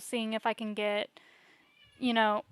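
A pet cat meows once, a short mid-length cry heard between stretches of a person talking close to the microphone during a gaming session.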